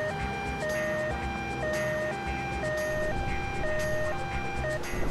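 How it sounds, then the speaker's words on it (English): Two-tone ambulance siren from the video game Driver 2, alternating steadily between a high and low pitch in a regular rhythm, loud and continuous over a dense low background rumble of traffic or engine noise. "the ambulance siren, sound like a similar one from Vice City Stories"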